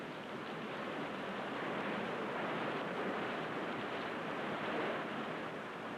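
Sea surf washing onto a sandy beach, a steady broad roar of breaking waves with gentle swells in intensity, continuous and fairly close, with no voices.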